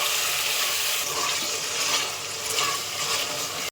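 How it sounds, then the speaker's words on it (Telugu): Hyacinth beans being rinsed in water, a steady splashing, running-water wash that fills the clip at close range with no talking. "సో ఇవి ఒకసారి వాష్ చేసుకోండి."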